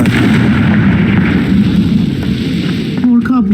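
A Confringo fire spell bursts in Hogwarts Legacy, a loud, sustained rumbling explosion with crackling fire that fades near the end as a short voice line comes in.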